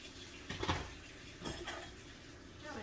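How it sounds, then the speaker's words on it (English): Dishes being washed by hand, with a few quiet clinks and clatters of plates and cutlery against each other, soft and close. "But you can join me in still cleaning some dishes."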